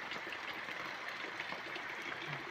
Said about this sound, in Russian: ливень. Видите, как шумит.